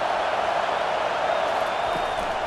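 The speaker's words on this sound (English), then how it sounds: "Decibels rising as the crowd gets behind this defense on 3rd down." Football stadium crowd roaring steadily as fans back the defense on third down, a dense continuous wall of cheering with faint whistles throughout.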